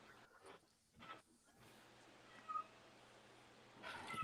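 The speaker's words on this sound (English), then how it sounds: "we can hear that cat loud as clear" A house cat meows a few times, faint and somewhat distant, in short cries over a low steady hum with no one speaking.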